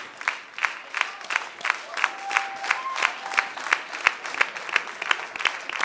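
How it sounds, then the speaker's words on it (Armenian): An audience at a dance competition gala applauds in a steady, almost rhythmic pulse of claps, with a faint crowd murmur beneath. "Ծափարում ենք ավելի բարձր"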